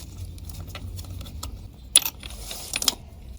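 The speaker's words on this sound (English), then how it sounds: "Now remove the extension." A ratchet extension being pulled from the spark plug hole of a ZX14R motorcycle engine during a rebuild, giving a few faint metallic clicks and light clatter, close up and quiet, no talking.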